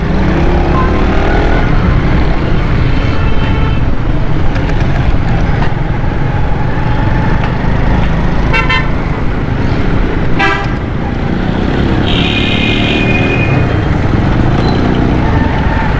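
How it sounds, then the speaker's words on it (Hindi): Heavy traffic jam on a Karachi road, with cars and other vehicles packed together: a constant loud roar of engines with repeated short horn toots and honks from several directions. "देखो ट्रैफिक कितनी मुतासिर हुई है"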